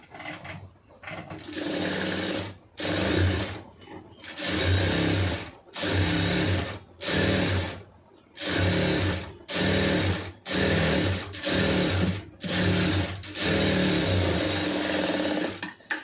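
A tailoring sewing machine runs stitching on a large garment sleeve in repeated loud whirring bursts of one to two seconds each, separated by short pauses, close and steady, with no speech.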